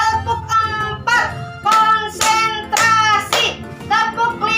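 Schoolchildren in a third-grade class clap in quick rhythmic bursts while chanting a readiness-to-learn routine together, with a teacher's voice leading; five loud clapping-and-chanting phrases separated by short pauses.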